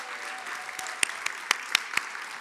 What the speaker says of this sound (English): please join me in a round of applause for our 2023 Excellence in Research winner, Professor Jay Migoda